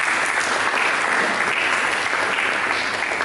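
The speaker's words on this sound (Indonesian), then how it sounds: "Berikan tepuk tangan bagi Tuhan." Congregation applauding during a church service, a loud, dense and continuous roar of many hands clapping close by that fills the whole stretch without pause.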